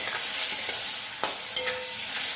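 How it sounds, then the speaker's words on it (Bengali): Prawns fry in a hot pan with a bright hissing sizzle, punctuated by a couple of sharp spatula scrapes, heard close and alone. "আমি চিংড়ি মাছটা একটু ভেজে নেব"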